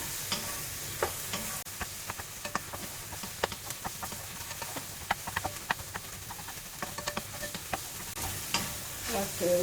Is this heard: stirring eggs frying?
yes